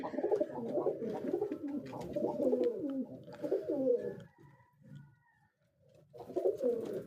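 Pigeons in a pigeon house coo in low rolling, overlapping phrases, close and steady, pausing briefly before a fresh burst near the end.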